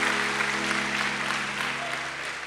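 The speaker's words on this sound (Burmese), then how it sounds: "အာမင်လက်ခုပ်တီးအောင်" A church congregation claps together, a dense and steady wash of hands that holds at an even level for the whole stretch with no voices standing out.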